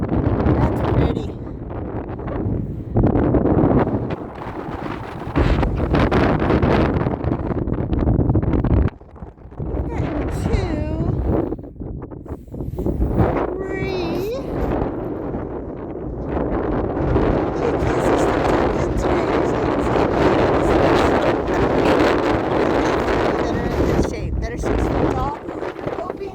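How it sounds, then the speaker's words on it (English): Strong wind blows outdoors in a garden, roaring and buffeting loudly across the microphone in continuous gusts with only brief lulls. "That wind."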